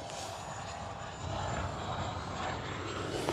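An FMS F-86 Sabre 80mm RC electric ducted-fan jet flying in windy conditions at about half throttle, giving a steady, moderately loud whooshing whine that swells slightly partway through, with no talking.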